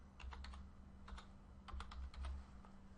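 Keys tapped on a computer keyboard to enter a purchase order number, a few short bursts of close, quiet clicks over a low steady hum, with no talking.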